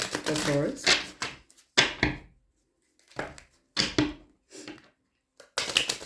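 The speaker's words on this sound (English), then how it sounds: "we're going to go ahead and get you some good shuffles in here from the Alien Tarot deck" Bursts of tarot cards being shuffled, a riffling rattle repeated several times with short pauses between, close by.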